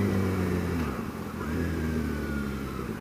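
A motorcycle engine braking after the clutch is released, its steady mid-pitched drone holding close and loud as the bike slows.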